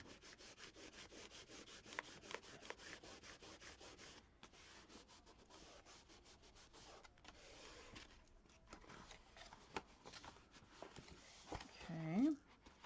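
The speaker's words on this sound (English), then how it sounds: "And I'm going to burnish it. Get rid of that excess." A burnishing tool rubbed over paper on a craft folio makes quick, repeated dry scraping strokes, close and fairly quiet, ending in a short squeak.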